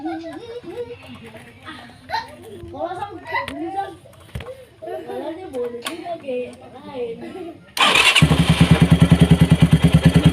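A Minerva motorcycle engine kicks into life after several seconds of talking, then settles into a loud, close, rapid idle that runs to the end.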